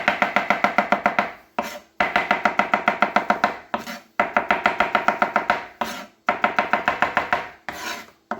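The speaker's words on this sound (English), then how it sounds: "Going to slice down a bunch of mushrooms" Knife slicing mushrooms on a cutting board in four quick bursts of rapid, evenly spaced chops, each run about ten cuts long with short pauses between, close and crisp with no talking.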